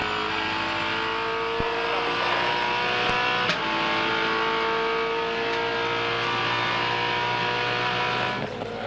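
V8 Supercars racing at Hidden Valley in Darwin, a loud close engine drone holding steady high revs for several seconds before easing off near the end.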